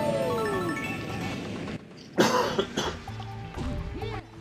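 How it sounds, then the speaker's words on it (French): A single harsh cough bursts out abruptly, close to the microphone, amid a busy background of tones and noise. "En plus, je tousse et tout."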